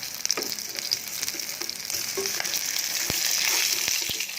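Fish pieces for Balinese sambal matah hiss and crackle in a pan just after being flipped, a steady close sizzle broken by a few soft utensil knocks.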